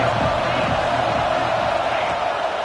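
A stadium crowd roars in the college football video game CFB 26, a steady, broad wall of cheering noise that holds evenly from start to finish with no pauses.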